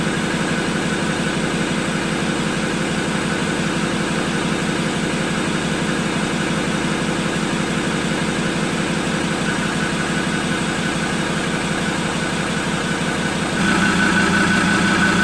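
A Ford Ranger T6 PX2 engine idles steadily after an oil and filter change, a close, even diesel-like drone with constant low rumble that grows slightly fuller in the last second or two.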